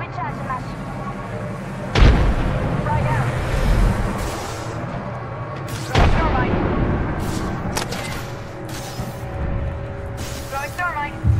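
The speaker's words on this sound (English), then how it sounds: "Listen up, I'm getting shot at." Gunfire in the Apex Legends battle royale shooter, with two sharp loud bursts and scattered shots and impacts over steady game ambience, while a character voice and game callouts speak over the action.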